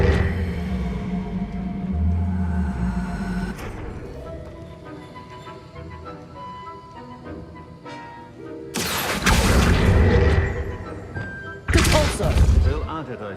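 The Depulso spell in the Hogwarts Legacy video game lands as two loud, broadband whooshing thumps late in the sequence. Spoken dialogue and ambient game sound run underneath.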